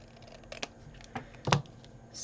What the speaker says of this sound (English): use your scissors just and trim off a wee nick, top and bottom